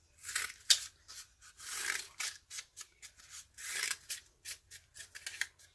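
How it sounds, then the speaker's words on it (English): Scissors snipping repeatedly into a cardboard toilet roll to make a tassel-like fringe, a close, crisp run of rasping cuts in an irregular rhythm, each one short with brief pauses between. "You are going to cut up on your toilet roll."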